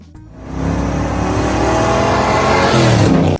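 A 1970 Chevrolet Chevelle SS 454 LS6 big-block V8 revs hard and close, rising quickly after a brief idle into a loud, sustained roar that holds steady to the end.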